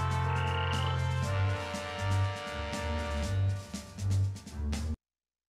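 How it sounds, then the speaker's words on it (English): Frog croaks from a modded Minecraft sky block game, a series of short, low, evenly repeated croaks over a steady ambient game music bed, fairly loud and close, with no talking. "Why do I have a frog"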